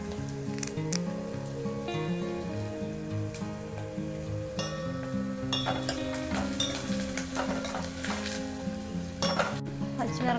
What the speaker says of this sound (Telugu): ఇప్పుడు కరివేపాకు వేద్దామండి.